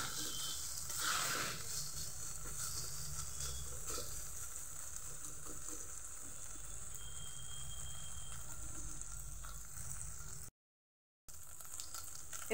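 Sauces with tomato ketchup being stirred together in a frying pan over a low gas flame give off a soft, steady sizzle with faint scraping, continuing evenly before a brief dropout near the end.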